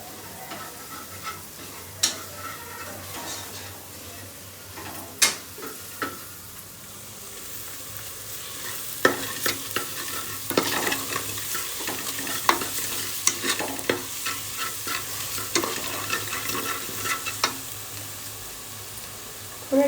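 Pav bhaji masala sizzles in hot oil in a home kitchen pan, frying steadily while a spoon stirs and scrapes, giving repeated clinks and scraping strokes over about twenty seconds.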